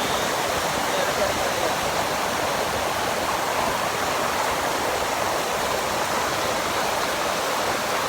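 The Tujuh Bidadari waterfall in Aceh roars steadily, a dense, even rush of falling water filling the scene without pause.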